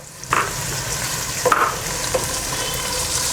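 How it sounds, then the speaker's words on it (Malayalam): Ginger, garlic, shallots and green chillies frying in a pan with a steady sizzle, a few spoon scrapes and clinks standing out as they are stirred, close and moderately loud with no talk. "ഒന്ന് ഇളക്കി കൊടുക്കാം കേട്ടോ"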